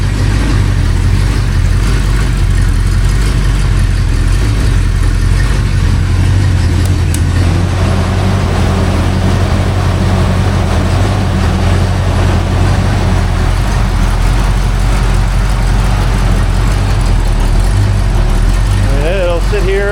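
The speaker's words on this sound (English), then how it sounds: "It'll sit here idle all day long" A rebuilt Ford 289 V8 sits on a homemade engine stand in a home workshop, idling at a steady, even rumble close by, loud and continuous throughout.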